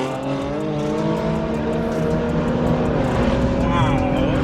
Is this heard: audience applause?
no